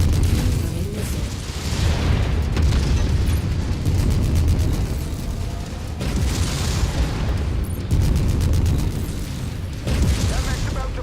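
A giant mech explodes in Mechwarrior 5 Mercenaries, with repeated heavy booms and rumbling blasts across the whole stretch amid loud battle noise, and voices briefly heard over the din.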